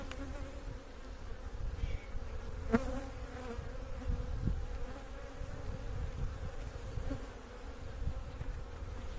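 A steady, low buzzing drone of many honey bees close by at a hive, continuous throughout with slight swells in loudness.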